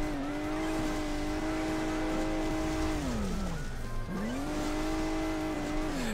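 A buggy's engine in Hill Climb Racing 2 drones with a steady tonal whine that drops in pitch around the third second, dips, then climbs back up and holds, as if labouring over hilly terrain.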